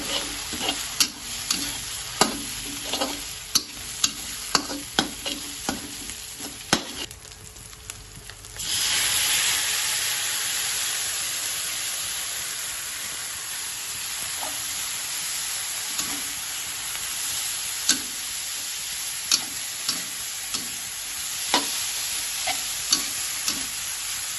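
Dried shrimp sizzle in a frying pan while a utensil stirs them for fried midin belacan, with a steady hiss broken by frequent sharp scraping clicks and a louder burst of frying partway through.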